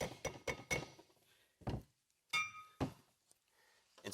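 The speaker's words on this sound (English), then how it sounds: "Gently tap the seal evenly into the rotor," A socket taps a wheel bearing seal into a brake rotor in a series of sharp metallic knocks, several quick strikes, then a pause and a few more spaced taps, close and clear.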